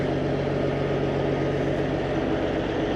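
A truck engine idles in a steady, continuous low drone, close and even throughout with no talking.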